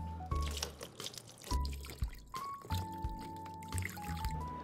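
Water is poured over a Realme C75x smartphone, giving quiet splashing and trickling in uneven bursts with small drips between, close up and faint.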